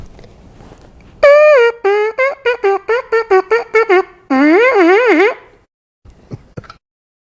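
A buzz played on a trumpet mouthpiece alone, close and loud: a long tone, then a quick series of short buzzed notes, then a wavering, sliding buzz, followed by a faint brief sound near the end.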